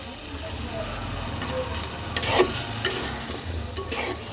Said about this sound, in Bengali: দেখো মশলাটা আমাকে আরও কষাতে হবে